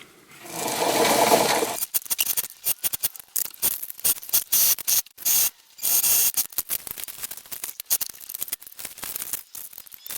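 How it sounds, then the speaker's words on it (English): Sewing machine stitching a tightly woven outer shell and fleece-lined liner for homemade bar mittens (pogies) for winter cycling: a dense continuous whir at first, then choppy bursts of stitching and fabric handling, close and fairly loud, with no talk. "this is going to make a floating liner as I sew it along the openings"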